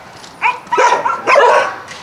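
A large, strong dog barks in three loud, close bursts with yelping, whiny edges, spaced over a couple of seconds.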